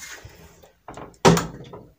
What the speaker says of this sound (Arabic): كنفتحوا الباب بحال هكذا كما كتلاحظوا